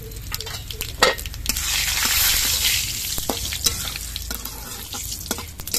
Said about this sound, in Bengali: দুটো শুকনো লঙ্কা আর গোটা গরম মশলা আর অল্প একটু গোটা জিরে ফোড়ন দিয়ে দিচ্ছি